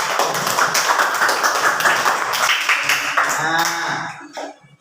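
A classroom of pupils claps hands together in a burst of rapid, overlapping claps that runs for several seconds before fading out, with a few voices mixed in.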